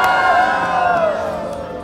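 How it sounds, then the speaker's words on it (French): An indoor crowd cheers and shouts with applause for a man receiving an award, a loud, dense burst of voices that slowly fades over a couple of seconds. "Un tonnerre d'applaudissements à Monsieur Turner!"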